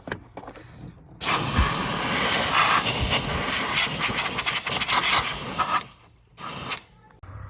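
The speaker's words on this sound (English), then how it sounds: "if you guys don't have a steamer, it makes cleaning a car so much better" A steam cleaner hisses loudly while cleaning a car interior, a dense continuous spray of steam for several seconds that cuts off, bursts briefly once more, then stops.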